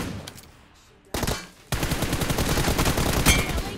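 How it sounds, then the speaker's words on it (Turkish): Machine gun fire in an online shooter video game: a short burst, a brief pause, then a loud, sustained stream of rapid automatic shots rattling continuously. "Çatır çutur vuruyorum."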